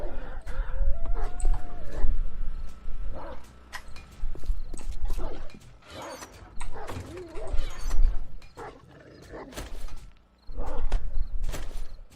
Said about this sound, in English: Yeah, I hear you out there, puppy dogs.